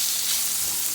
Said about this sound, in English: It should be really hot and make that sizzling sound.